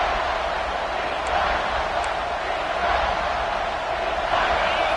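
A football stadium crowd in a video game cheers for the defense on a big third down in the red zone, a steady loud roar that fills the air with no breaks.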